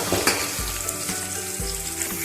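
Chopped carrots and beans fry in a hot pan with a loud, continuous sizzle, broken by two low, thudding stirs as the vegetables are tossed.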